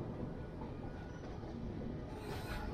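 The Raptisagar Express running late into Secunderabad railway station, heard from inside a first-class AC coach as a steady rumble of wheels on track with faint rail squeal, continuous and close.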